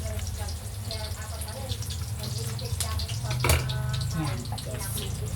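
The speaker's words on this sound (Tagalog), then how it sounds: "Buhos lang yung patis." Fish sauce pours into a pot with a continuous watery splash and hiss, close by, with faint talking in the background.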